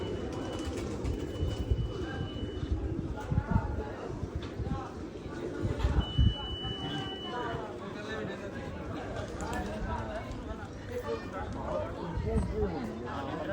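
Pigeons coo in the courtyard of the Sultan Bahoo shrine, soft and intermittent beneath people talking and a steady background rumble of crowd and movement.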